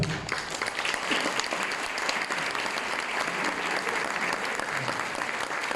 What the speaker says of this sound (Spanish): es un aplauso por igual a toda la mesa